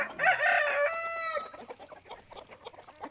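A rooster crows once, loud and close, followed by quieter clucking and ambient farmyard noise.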